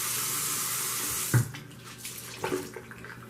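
Tap water running into a sink as someone rinses their face, a steady broadband wash for over a second before it cuts off, followed by a few soft splashes and drips.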